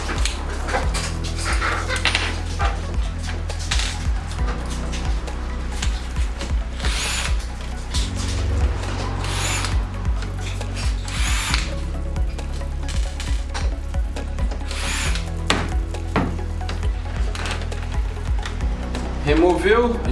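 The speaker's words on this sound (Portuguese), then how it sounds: "vamos tirar os parafusos." Screws are backed out of a PlayStation 4 console with a screwdriver during a cleaning, giving close, repeated metallic clicks, small rattles and clinks over a steady low hum, with no talking.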